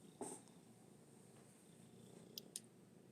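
A cat purrs softly and close by in a quiet room, a faint low continuous rumble broken by a few small clicks and taps.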